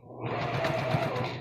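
A sewing machine runs a short backstitch, giving a brief, steady mechanical whir and rattle at moderate volume with no talk.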